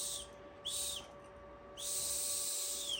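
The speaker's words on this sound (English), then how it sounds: "let me blow on it for you. This is how loud it is." A 3D-printed whistle made on an AnkerMake M5 printer gives a thin, breathy high tone in three short bursts, the last longest, faint and airy with hiss, barely sounding despite hard blowing.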